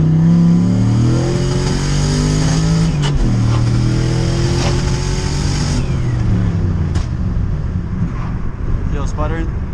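A big turbo BMW 540i race car revs and accelerates loudly up close, its engine note climbing through gears with a brief drop and shift partway through, before tapering into a rougher rumble.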